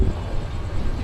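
The Jamalpur Express pulls into Kamalapur railway station in Dhaka, a steady low rumble of rolling wheels and carriages with a broad, noisy wash over it, brief and continuous.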